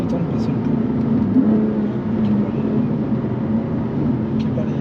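A BMW M3 CS with 580 horsepower drones steadily while driving, its engine a low continuous rumble under road noise with no clear revving peaks.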